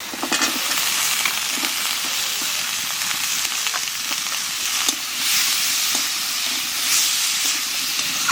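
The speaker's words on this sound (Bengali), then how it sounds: "1 চামচ হলুদ আদা জিরে একটু ভেজে নিয়েছি এবার আলু দিয়ে দেবো" Potatoes fry in hot oil with turmeric, ginger and cumin in a village kitchen, giving a steady, close sizzle and hiss with occasional scrapes of stirring throughout.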